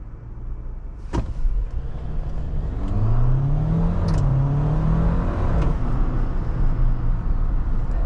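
A Jeep Wrangler Unlimited Sahara 4xe plug-in hybrid launching at full throttle, with a loud rising engine whir that builds steadily and holds strong, heard from inside the cabin over several seconds.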